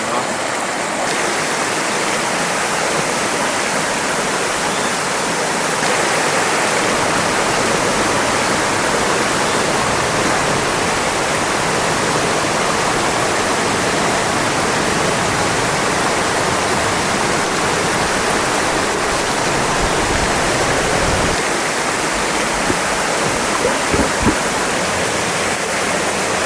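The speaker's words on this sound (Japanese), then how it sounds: "川がだいぶ狭くて流れが速めの川ですね。" A narrow, fast-flowing mountain stream at a trout fishing area rushes in a dense, constant roar of churning water, close and unbroken throughout.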